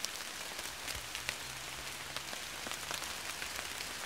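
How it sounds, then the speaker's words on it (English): Steady rain falls outdoors on a soaked, rainy day, a continuous close hiss with scattered sharper drops pattering on nearby surfaces. "think you can hear the rain"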